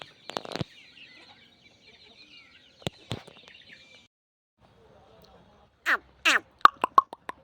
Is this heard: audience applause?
no